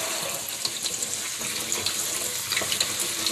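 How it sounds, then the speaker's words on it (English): Tap water runs and splashes steadily as mung bean sprouts are rinsed in a mason jar, a close, continuous hiss with small bubbling spatters and no talk. "Get to rinse the seeds."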